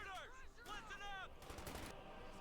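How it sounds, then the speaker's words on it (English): Machine gun fire in the World War II strategy game Company of Heroes 2, short bursts mixed with in-game voices and battle noise, fairly quiet overall. "Another machine gun here to back up his forces."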